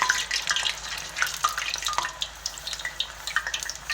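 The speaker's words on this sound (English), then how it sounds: "I'm gonna drop my fries into my frying pan" Cut potato fries dropped into hot oil in a frying pan give a busy, close crackle and sizzle with scattered pops, steady throughout with no talking.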